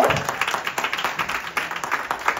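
Applause and clapping from a crowd greeting the DJ at a Dirndl fashion premiere on a restaurant terrace, a steady patter of many hands for a couple of seconds.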